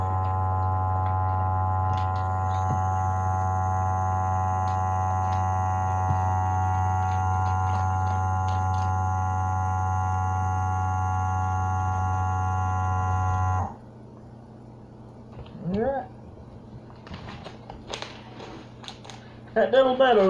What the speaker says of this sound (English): Vacuum sealed some beans there.